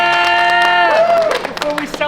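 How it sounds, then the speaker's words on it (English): Audience at a 600-plus founder conference in Silicon Valley breaking into applause, dense clapping rising under a loud sustained whoop and cheering voices, close and energetic for a couple of seconds. "Round of applause for ourselves."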